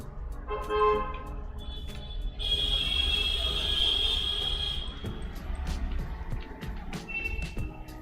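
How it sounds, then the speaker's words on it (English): Car horns honking on the street outside a window, several short and longer toots including one sustained blast, heard at a distance with traffic rumble beneath. "you can hear the honking of the cars and shit outside of my window"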